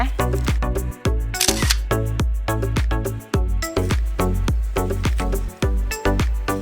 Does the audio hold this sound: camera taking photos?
yes